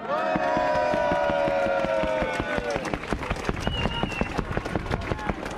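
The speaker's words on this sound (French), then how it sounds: "Applaudissons-nous." A crowd at a Gilets jaunes (yellow vest) street gathering in March 2020 breaks into loud, sustained applause, with dense clapping over a murmur of voices and a few held tones.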